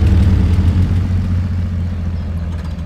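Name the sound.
truck engine starting in the video game Spintires: MudRunner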